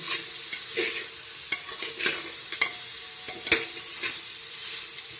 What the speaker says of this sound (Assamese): তাৰপিছত এই মিশ্ৰণখিনি আকৌ আমি লৰাই থাকিম।